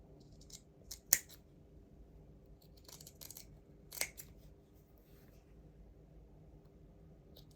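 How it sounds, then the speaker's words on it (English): Scissors snip through fabric while trimming the pointed corners of a small collar for a rabbit doll's mechanic coveralls, giving a few crisp, close cuts, the sharpest two spaced about three seconds apart over a quiet room hum. "trimming down these collar points makes all the difference"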